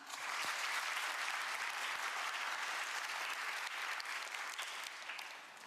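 A dense, steady wave of audience applause fills a large hall at a national policy report event, welcoming a presenter. The clapping stays full and continuous throughout and eases slightly at the end.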